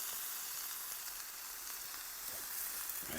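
Peppers sizzling in a pan over a wood fire outdoors, a close, even, continuous hiss of frying with no break.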